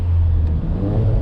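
Cadillac CTS fitted with a turbo inlet elbow pulls hard under acceleration, a loud, steady engine drone heard from inside the car.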